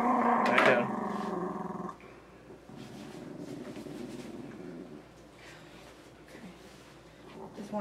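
A schnauzer growls and snarls loudly and close for about two seconds while being handled for grooming, then goes quieter, with low growling under people talking nearby.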